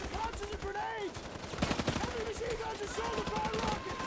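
Bursts of AK-47 gunfire from a Vietnam War film battle scene, rapid rattling shots mixed with shouting voices and tonal sounds, dense and loud throughout the short stretch.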